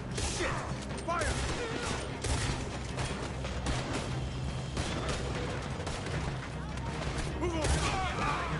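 Gunfire crackles through a Red Dead Redemption 2 shootout, a steady barrage of overlapping shots and booms with mechanical clatter, loud and continuous, while voices shout in the background.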